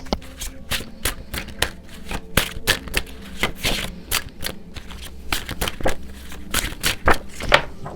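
Tarot cards are drawn and laid out on cloth, making a quick, irregular run of crisp flicks, snaps and soft taps close by, with no speech.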